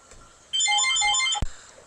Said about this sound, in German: Oh, Telefon.